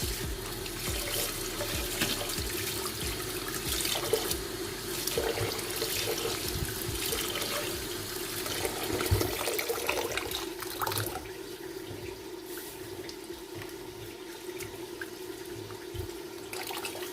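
Water runs steadily from a tap while rice is swished and rinsed in it close by; the flow softens a little toward the end.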